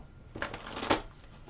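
A tarot deck is shuffled close by: soft papery riffles and slaps, with a couple of sharper bursts of cards snapping together. The sounds come in brief rushes over a quiet room, with no talk.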